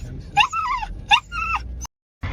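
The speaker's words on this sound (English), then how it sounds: "They got one of them banshee dogs that chases." Dog on a cattle farm giving two high, whining yelps in quick succession, close and fairly loud over low outdoor rumble, followed by a brief silence.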